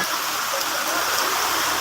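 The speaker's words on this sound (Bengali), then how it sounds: "এই দেখুন রাস্তার বৃষ্টি হচ্ছে, কতটুক পানি দেখুন" Heavy rain pours down onto a waterlogged city street in Gazipur, a loud, unbroken hiss of water filling the whole scene.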